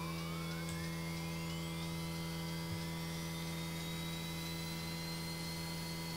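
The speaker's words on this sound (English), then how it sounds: "let's start with the fuel pump on, ignition on, and starter" Quest Kodiak turboprop starting up in X-Plane 11, recorded from the real aircraft: a steady whining turbine drone with rising tones sweeping upward over a constant low hum, loud and unbroken throughout.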